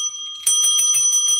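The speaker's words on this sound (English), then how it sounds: "Do you have the bell? I got it right here. I got my ding." A small hand bell is rung with quick, bright repeated dings after a brief quiet moment, close and loud with a ringing tone between strikes.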